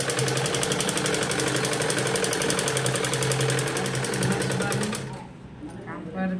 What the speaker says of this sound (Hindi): अभी तो सिलाई कर रही हूँ।